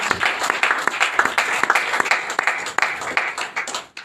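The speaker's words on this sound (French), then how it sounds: "Est-ce qu'on peut acclamer?" Church congregation clapping and cheering in a burst of rapid, uneven applause that fills the space loudly and tapers off at the end.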